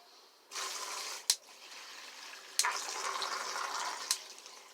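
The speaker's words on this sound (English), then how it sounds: "So he's going through all the spray motions." Water sprays from a homemade spray bidet as it cycles through its jet, spray and shower modes. The hiss comes in continuous close bursts, broken by several sharp clicks as the setting changes.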